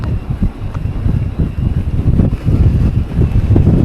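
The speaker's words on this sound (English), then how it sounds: "Quite windy up here." Strong wind buffets across open moorland, roaring and gusting steadily close to the microphone with no other sounds.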